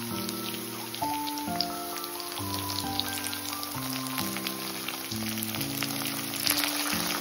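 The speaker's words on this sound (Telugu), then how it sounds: "ఎక్కువ వేగాల్సిన అవసరం లేదండి, కొద్దిగా వేగితే సరిపోతుంది" Schezwan chicken frying in a pan gives a crackling, rain-like sizzle that runs steadily beneath louder background music with shifting tones.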